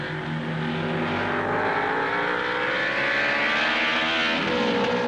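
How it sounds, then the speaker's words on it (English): 1955 Formula 1 racing cars roar past at the British Grand Prix, a continuous loud, layered engine drone that swells and fades as several cars stream by, with no talking over it. "Down from Country Corner to Village they stream, with Fangio kicking up clouds of dust as he clips the grass"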